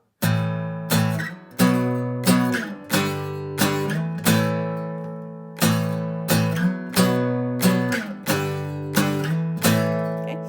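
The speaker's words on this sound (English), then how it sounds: "let's put this together in a little progression so that I can show you how to move these chords" Acoustic guitar strums ring out in a steady sequence of chords, each strummed and left to sustain, changing every beat or two with no voice.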